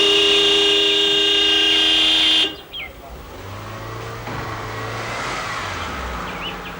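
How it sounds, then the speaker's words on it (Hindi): A car horn blares in one long, loud, sustained blast that cuts off abruptly after about two and a half seconds, leaving quieter street ambience behind. "हॉर्न की आवाज सुनाई नहीं देती?"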